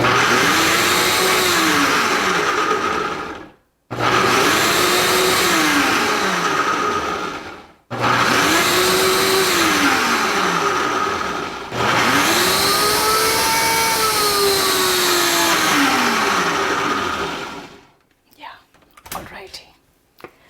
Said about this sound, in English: So we have to blend it really finely because we are not going to strain it.